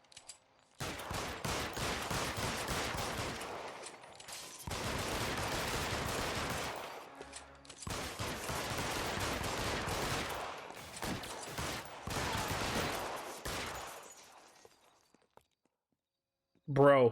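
Gunfire in the video game L.A. Noire, long sustained bursts of rapid shots in several dense volleys separated by short pauses, loud and close, ending in quiet.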